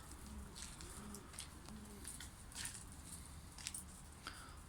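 Performance tumbler pigeons coo softly in their coop, giving repeated low, rolling calls over faint rustling and distant background sounds.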